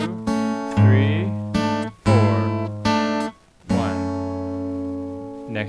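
Acoustic guitar plays the opening passage of a piece, a few ringing plucked notes and chords in a slow, deliberate rhythm, each left to sustain between attacks.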